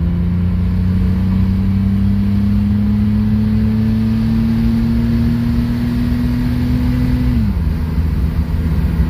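The engine of a 1994 GMC Jimmy 4x4 held at a loud, steady drone that climbs slowly in pitch as it accelerates, then drops abruptly near the end.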